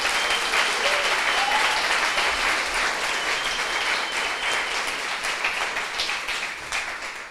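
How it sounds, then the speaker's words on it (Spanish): Sustained applause from a church congregation, dense steady clapping that fills the whole stretch and tapers slightly toward the end. "que le demos un aplauso al Señor por eso"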